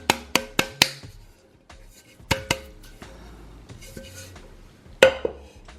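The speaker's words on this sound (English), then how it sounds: "you'll see me evenly distributing the flour throughout the pan so that all parts of the pan are coated" A greased cake pan is tapped and shaken to spread flour around it, giving a series of sharp metallic knocks and clanks, first four quick hits, then scattered taps and a final louder bang.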